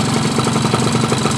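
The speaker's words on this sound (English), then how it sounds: "These big engines, they do make a lot of, they rattle a lot." A Honda Dio scooter fitted with a big engine idles with a steady, loud, close-up drone and a fast mechanical rattle pulsing through it, continuous and alone.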